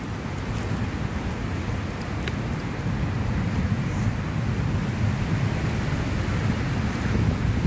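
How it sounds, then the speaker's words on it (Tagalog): Strong wind buffets the open air at Waipio Valley, a loud continuous rumbling roar with gusty low-end pressure on the microphone, steady throughout with no talk. "So windy."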